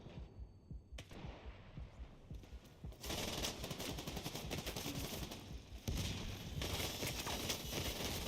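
Gunfire in The Division 2: scattered shots at first, then continuous rapid automatic fire with dense overlapping bursts that grows louder near the end.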